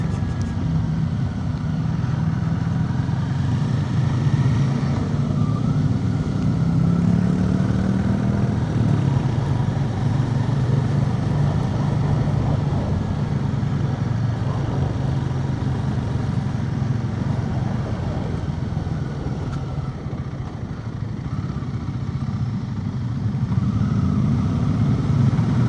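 A Royal Enfield Guerrilla 450 motorcycle rides steadily for a long stretch on a demo day test ride, its engine droning continuously and fairly loud with wind noise and no one talking.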